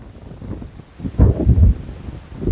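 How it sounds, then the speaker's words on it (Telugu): Strong wind gusting across an open hilltop near a tribal village, a steady rushing roar that swells louder midway through, with no talk. "సో గాలి విపరీతమైన గాలి ఎలా వేస్తుందో చూసారా"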